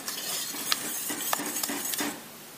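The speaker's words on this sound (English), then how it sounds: "so I'm going to take a wire whisk and whisk that all up together" A wire whisk works through a melting cheese sauce for mac and cheese, making a continuous soft swishing with a few light metallic clinks against the pot. It fades out near the end.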